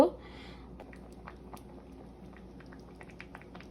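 Bengali rohu fish curry with potato and drumstick stalks simmering on a stove, a faint, steady low bubbling with small scattered pops, quiet and close.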